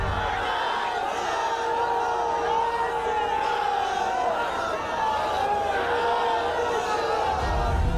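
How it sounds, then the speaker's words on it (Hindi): Large crowd at Amit Shah's road show in Bolpur, a dense roar of many voices with rhythmic chanting, loud and continuous throughout. "भारत माता की जय और जय श्री राम के नारे लग रहे थे"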